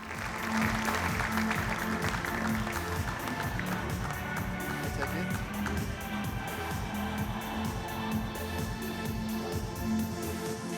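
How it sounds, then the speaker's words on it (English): Audience applause at a football championship draw ceremony welcoming the Swedish Football Association president, dense continuous clapping from a large crowd with a faint pulsing music bed beneath. "A warm applause, please."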